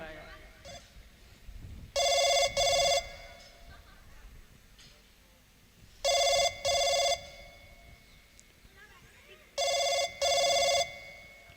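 A telephone rings in three separate double-ring bursts, evenly spaced several seconds apart, each loud and clear over a low background hum.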